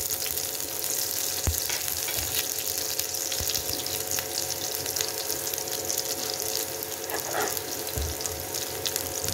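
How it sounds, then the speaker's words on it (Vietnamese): Shallots and garlic stir-frying in about half a tablespoon of oil in a pan give a dense, continuous sizzle up close, broken by occasional scrapes and knocks of the utensil. "Bây giờ mình sẽ bắt cái chảo lên mình xào."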